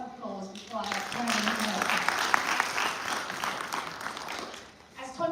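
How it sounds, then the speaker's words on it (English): A conference audience at the opening of the Columbia Africa Conference in Harlem breaks into sustained applause, a dense wash of clapping that fades out, with someone speaking before and after it. "Give yourselves a round of applause"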